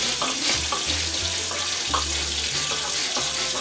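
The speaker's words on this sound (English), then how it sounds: "Get some nice hot water." Hot water runs steadily from a bathroom tap into a sink before shaving, a close continuous hiss and splash with small rhythmic shifts as hands move through the stream.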